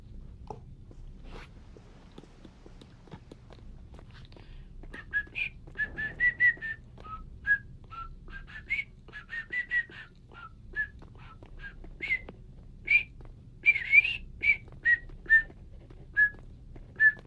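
Someone whistles a wandering, high tune in short phrases and separate notes, fairly close, over a low background hum.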